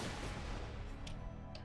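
Heavy gunfire in Borderlands 2, a dense continuous barrage of booming shots, loud and close, with no talk over it.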